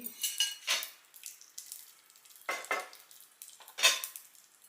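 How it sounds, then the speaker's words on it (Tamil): Mustard seeds spluttering and popping in hot oil while tempering with curry leaves and asafoetida, heard as intermittent bursts of crisp crackling with quiet gaps between, close and moderately loud, with no talking. "கடுகு பொரியுது."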